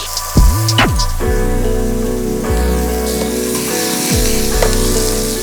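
Prawn shashlik skewers sizzling in a hot pan on a stove that has just been switched off, a steady loud frying hiss with a few brief clatters and scrapes of handling.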